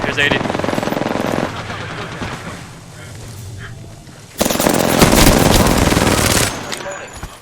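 Rapid automatic gunfire in the battle-royale shooter Apex Legends, a loud sustained burst that eases off, then a second dense volley, with voices talking over the fighting.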